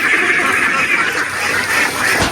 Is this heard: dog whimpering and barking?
no